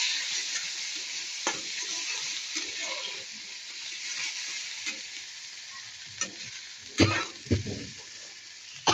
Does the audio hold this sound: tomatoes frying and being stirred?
yes